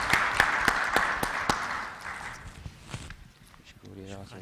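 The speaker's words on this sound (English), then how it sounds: "Give them a round of applause for the panelists" An audience at a Saudi trade finance summit applauds a liquidity panel: a burst of scattered, sharp claps that thins out and fades after a couple of seconds into a quiet room with faint voices.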